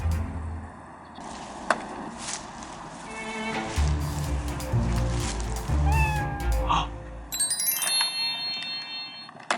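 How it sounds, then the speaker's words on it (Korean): A cat meows several times, with rising and falling calls near the middle, over a busy background of music and other noise in a Korean variety show. "고양이다."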